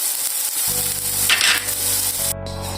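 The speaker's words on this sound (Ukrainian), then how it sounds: "в тій сковорідці хочу пожарити печінку" Steady, loud sizzling of liver frying in oil in a pan, with a low hum underneath and brief stirring noises, no talking.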